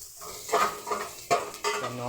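Garlic and onion sizzling in a pan, with a utensil stirring and scraping in several distinct bursts against the metal, close and fairly loud.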